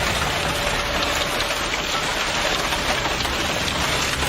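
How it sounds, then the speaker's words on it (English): A dense, unbroken roar of heavy rain and hail pounding down, loud and steady throughout with no voices. "Hail covers parked cars."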